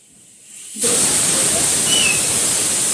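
Arhar dal (pigeon pea lentils) boiling in a pot, heard as a steady, loud steamy hiss that swells in after a quiet start and holds unbroken to the end, with no voices.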